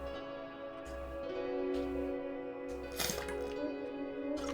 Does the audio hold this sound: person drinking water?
yes